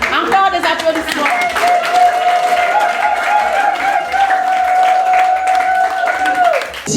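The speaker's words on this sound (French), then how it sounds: "Encore des applaudissements" Loud, sustained clapping from guests at Maman Mulumba's 80th birthday party in Matadi, running continuously under a long held musical tone and scattered voices.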